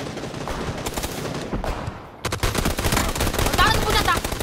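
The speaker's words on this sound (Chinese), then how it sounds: "K98一枪爆头" A K98 rifle in the video game PUBG fires a series of sharp shots, with a dense crackle of gunfire that cuts out briefly midway, then bursts back louder, while a voice is heard faintly underneath.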